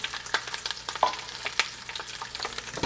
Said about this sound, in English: Okay, we'll work all this into the butter